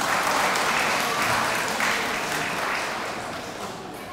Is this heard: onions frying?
no